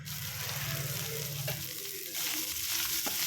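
Egg fry sizzling in a pan, a steady close crackle with stirring and light scraping, with no voices.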